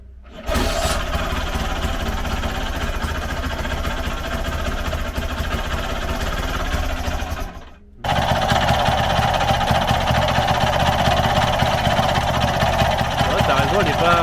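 A Vespa 50 Special scooter engine, started with the choke for the first time in ten years, runs loudly and continuously at a buzzing idle, dipping briefly near the middle before carrying on.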